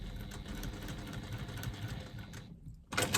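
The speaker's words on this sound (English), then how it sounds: "I'm just going to stitch along the top to secure it in place" A sewing machine stitching fabric along the top of a pouch, a steady fast mechanical whir close up, briefly stopping before resuming.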